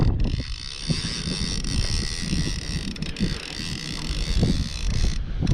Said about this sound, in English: That wind picked up and the fish started biting.